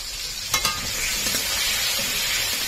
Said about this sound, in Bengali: আলুগুলো লাল লাল করে ভেজে নেব